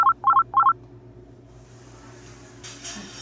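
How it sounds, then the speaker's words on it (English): A phone rings with an incoming FaceTime call: three quick bursts of bright electronic tones at the start, loud and close, followed by quiet room noise and a faint hiss. "Who could be FaceTiming me now?"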